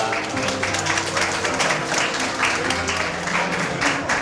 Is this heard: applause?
yes